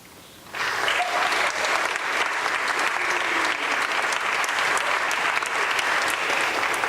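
A school chapel audience at a commencement ceremony breaks into sudden applause for economics award winners, and the dense, steady clapping carries on evenly to the end.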